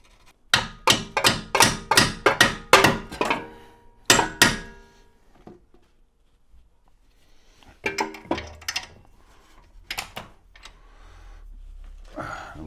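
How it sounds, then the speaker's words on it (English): An 18mm ratchet working on a control arm bolt of a BMW E36 rear suspension, sharp metallic clicks in a fast even run, then a few scattered bursts after a pause, close and loud with no talking. "18mm ratchet."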